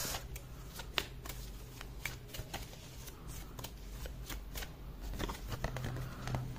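Tarot cards being shuffled up close: a steady run of crisp riffling rustles and sharp card snaps, with no voices.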